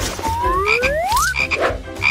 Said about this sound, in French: Et maintenant, mettons la grenouille à l'intérieur.